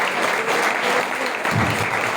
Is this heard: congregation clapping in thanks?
yes